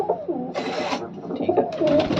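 Pigeons coo in low, rolling murmurs, with a burst of brighter noise partway through; the birds sound close and continuous.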